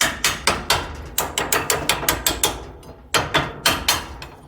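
A hammer repeatedly striking to knock loose the spring base plate on an Ifor Williams trailer, about twenty sharp, close metallic blows in fast bursts with a brief pause before the pounding resumes, no speech.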